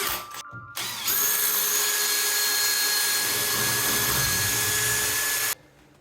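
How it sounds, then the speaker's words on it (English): A power drill with a 6 mm masonry bit whines steadily into masonry for several seconds after a brief start-stop, then cuts off abruptly, loud and close. "Drill these holes with a 6 mil masonry bit."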